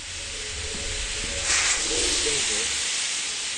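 Steam hisses from a leak in the video game Lethal Company, a steady broad hiss that swells around the middle, with a single brief spoken word near the start.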